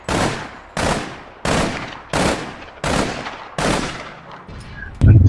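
Seven loud gunshots ring out at a steady, spaced rhythm in the online shooter APB: Reloaded, each one a sharp crack with a decaying tail, and a brief low thump comes at the very end.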